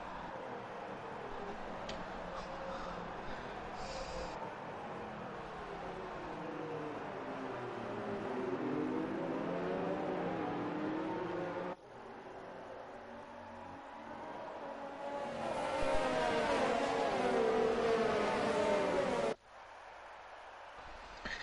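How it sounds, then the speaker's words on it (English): Engines of open-wheel race cars in a sim racing game at Abu Dhabi, a continuous droning whine with shifting pitch that rises and falls as cars pass, with an abrupt change in tone partway through. "Let's just enjoy some engine sounds."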